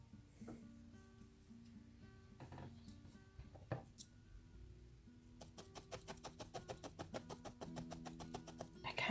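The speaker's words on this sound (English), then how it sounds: "I kind of love just the sound of needle felting." A felting needle repeatedly jabs wool into a felted fairy door, faint close-up rhythmic soft pokes that speed into a quick, steady series of taps toward the end, with music playing underneath.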